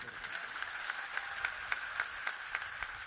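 Crowd applause at a Maratha community rally in Pune district, a steady wash of many hands clapping with scattered sharper claps, moderately distant and continuous throughout.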